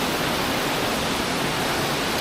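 Holme Force waterfall in the Lake District, a steady dense rushing roar of falling water, constant and close with no variation or voices.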